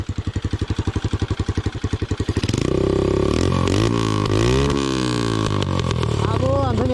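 A modified motorcycle with a handmade silencer and misfire, styled like a small Harley, thumps in a loud, even idle pulse, then revs sharply into a dense roar with rising and falling pitch sweeps, up close.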